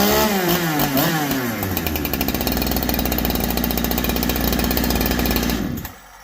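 A Holzfforma G372 chainsaw, a Chinese-made saw with a failed crankshaft seal, revs up and runs loud and close with a steady buzzing engine drone for about six seconds, then cuts out abruptly into silence.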